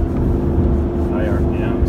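The 4.7L engine of a 2001 Jeep Grand Cherokee runs at high RPM while driving, a loud, steady low drone with road noise and someone talking briefly over it.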